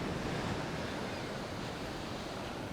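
Ocean surf rolls steadily onto a beach in a continuous, loud wash of breaking waves with some wind noise, no voices.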